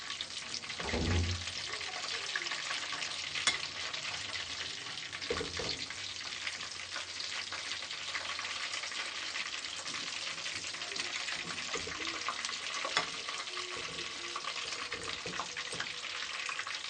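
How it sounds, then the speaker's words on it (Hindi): Kofta meatballs fry in hot oil for a curry, giving a steady, continuous sizzle and hiss throughout with no break, at moderate level and close by. "चार से 5 मिनट हमने इसको अच्छे तरीके से फ्राई कर लिया है।"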